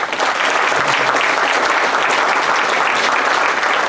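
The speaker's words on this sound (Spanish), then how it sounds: "Recibámoslo con un aplauso," Steady, full applause from a conference audience welcoming a guest speaker at a criminal law lecture, continuous clapping for about four seconds with no talk over it.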